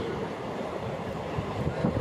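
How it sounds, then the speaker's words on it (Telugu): A train runs toward Makthal, heard as a steady low rumble with wind buffeting and faint rhythmic knocks, continuous from a moving vantage point. "మక్తల్కు ట్రైన్ వెళ్తున్నది."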